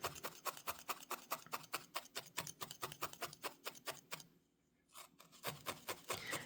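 A felting needle jabbing repeatedly into a wool felt ornament, producing fast, even, soft ticking stabs up close, broken by a brief pause before the stabbing resumes, with no one speaking.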